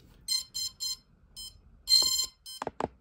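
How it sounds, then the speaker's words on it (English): A drone motor driven by a DIY ESP32 flight controller running Betaflight gives several short, close, high-pitched electronic beeps in groups, followed by a couple of lower chirps. "So one of the motors is going to beep."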